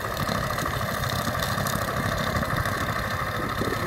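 A T-25 tractor runs steadily in a potato field while topping potato haulms, its diesel engine giving a continuous, loud, close chugging rumble with vibration throughout, with no talking.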